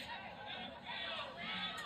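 Stadium crowd chanting and cheering at a Notre Dame versus Wake Forest women's soccer match, a steady distant roar of voices swelling from across the field.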